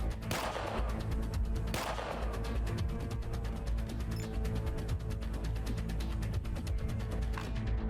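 Gunshots in the game ATOM RPG Trudograd: rapid, loud automatic fire in a continuous stream of sharp cracks, with two heavier blasts near the start.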